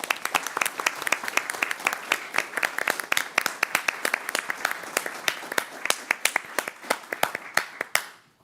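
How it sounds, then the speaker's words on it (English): Applause at a high school board of education meeting for student board members, a crowd clapping steadily with crisp individual claps close by, fading out abruptly at the end. "So if we give them a big round of applause, that'd be great."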